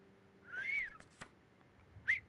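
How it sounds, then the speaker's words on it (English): A low, gliding whistle from a video game character, rising then falling, heard alone and fairly clear, followed about a second later by a short second whistle note. "She doesn't finish the sentence, but simply lets out a low whistle"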